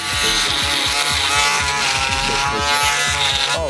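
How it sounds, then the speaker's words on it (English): An Andis electric shaver runs close up with a loud, continuous high-pitched buzz and a rapid, rattling motor vibration throughout, with no talking over it. "Okay, so now we got the real Andes shaver right here."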